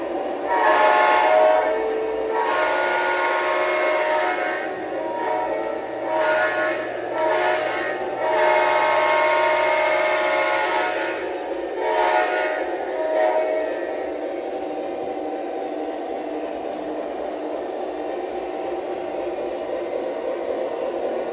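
A model train engine with Odyssey speed control rolls smoothly along its track. There is a continuous mechanical rumble, horn-like tones sound several times in the first half, and then the hum goes on alone.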